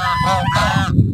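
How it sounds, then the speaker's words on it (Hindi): Ducks honk in a park, a short burst of loud, nasal calls close by with shuffling noise underneath. "ये डक्स के पास जाते हैं, डक्स को देखते हैं।"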